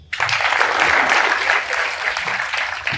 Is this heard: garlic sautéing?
no